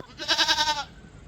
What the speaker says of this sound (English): You silly goats, get down.